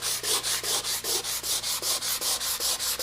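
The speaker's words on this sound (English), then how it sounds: "we'll just have to bring our line up imaginary, like so, to that edge in a hand sanding fashion." Steady back-and-forth rasping of hand sanding plywood with 120-grit paper, about fifteen even strokes in a regular rhythm, close up with no voices.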